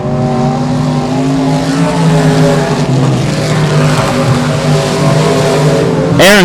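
Race cars at Texarkana 67 Speedway roar past in a loud, continuous engine drone with wavering pitch as they chase each other around the track, close and dominant, with a sharp rising whine at the very end.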